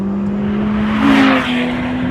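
Lotus Exige Sport 350 sports car with its engine mounted behind the cabin, heard from inside while driving a B-road: a steady engine note that swells briefly in a short rev before settling, with no talking.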